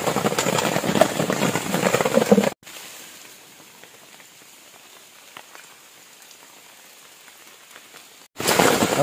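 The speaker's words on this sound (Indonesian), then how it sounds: "mendengarkan rintik-rintik hujan." Steady rain at night in a deep forest during a camping trip, soft continuous patter of drops between louder stretches where a voice speaks at the start and end.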